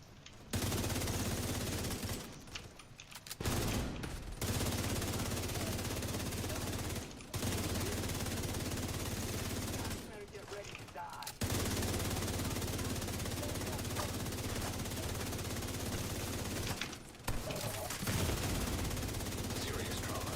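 Sustained automatic turret gunfire in The Division 2, dense and loud for long stretches with a few brief pauses, while game voices talk over it.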